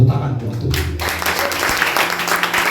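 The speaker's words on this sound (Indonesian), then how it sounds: "Tepuk tangan buat Tuhan." Church congregation at a Christmas service claps together after a pastor's call, a broad burst of applause that swells in and carries on steadily, with a voice over it at the start.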